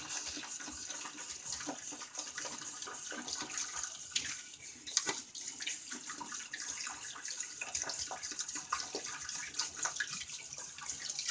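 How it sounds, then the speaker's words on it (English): Tap water runs steadily as a shaving bowl and brush are rinsed, with a continuous close splashing rush and small bumps and clatters from handling, and no voices. "Clean out the bowl and brush."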